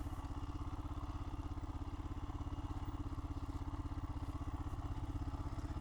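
A Royal Enfield Himalayan motorcycle on street tires rides over an obstacle, its engine giving a steady, rapid low thumping that stays fairly faint throughout, with no talking.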